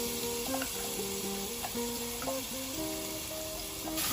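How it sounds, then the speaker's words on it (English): Ground spice paste sizzles steadily in four tablespoons of hot cooking oil, a continuous crackling fry with faint stirring and clinks, alone with no talk. "You start frying it until it has a very nice aroma"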